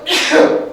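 One sharp, loud sneeze burst, close by, following a brief spoken word.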